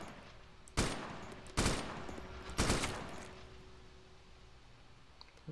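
Three sharp gunshots in the video game DayZ ring out at roughly one-second intervals, each trailing off in a long echo over a faint steady hum.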